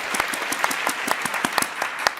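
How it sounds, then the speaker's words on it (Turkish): Studio audience applause on a Turkish TV game show, welcoming contestant Fatih: dense steady clapping with sharp individual claps standing out, close and fairly loud, continuing for a couple of seconds with no talk over it. "Fatih Bey'e de alkışlar Hande Hanım"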